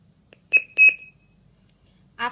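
A Golden Alarm GS G90 home burglar alarm system gives short, sharp electronic beeps, a quick pair of tones close together and then a burst at the end against near silence.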